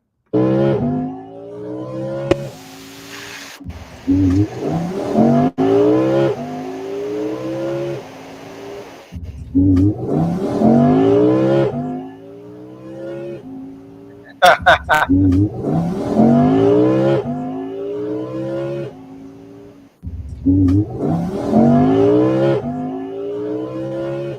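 An Audi R8 Spyder convertible's engine revs and accelerates in several rising bursts of roughly four to five seconds each, loud and close, with voices probably talking over it.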